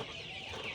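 Chickens on a poultry farm where broiler and coloured birds are raised cluck steadily in a dense, continuous flock chorus, close and fairly loud, with no talk over them.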